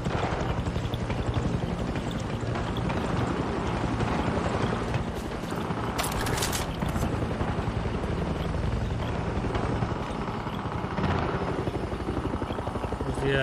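Helicopter in the video game Far Cry 6, a loud continuous rotor thrum with a rapid chopping pulse, steady and close throughout with mechanical clatter layered in.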